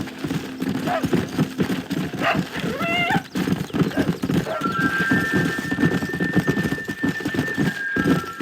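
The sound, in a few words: horses clip-clopping and neighing in Red Dead Redemption video game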